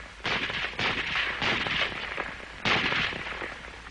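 An M-1 Garand semi-automatic rifle firing in a series of loud, sharp bursts at an uneven pace, with about four shots echoing across roughly four seconds and no voices.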